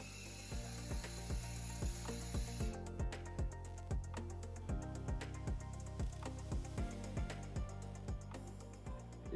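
A vending machine works through a vend cycle after a test card payment, giving off a steady run of evenly spaced mechanical clicks and ratcheting ticks, close and fairly quiet, with no talking.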